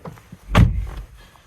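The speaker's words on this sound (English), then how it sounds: "So get in and close the door." A Nissan Leaf car door swings shut with a single solid thunk, preceded by faint rustling and movement as someone gets into the driver's seat, then quiet.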